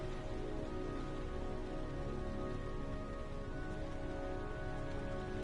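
Rain falls in the PS4 game Heavy Rain, a steady, even hiss of downpour with a faint tonal hum underneath, continuous and unchanging throughout with no voices.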